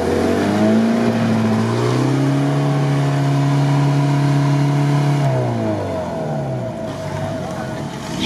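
A Jeep Rubicon off-roader's engine revs up, holds a loud droning pitch, then drops and rises again as the vehicle pulls away on an off-road course, close and dominant with a faint voice underneath.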